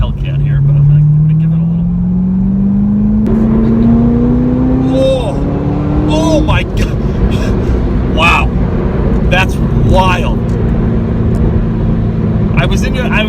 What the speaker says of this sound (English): That was brutally fast acceleration.